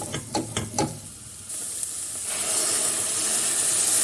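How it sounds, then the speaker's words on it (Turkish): Water poured into a hot pot of sautéed lentils brings a loud hiss that swells and holds steady, after a few quick clinks at the start. "Yıkamış olduğum bir su bardağı mercimeğimi de ilave yaparak yine şöyle 1-2 dakika kavurduktan sonra suyunu ilave yapıyorum."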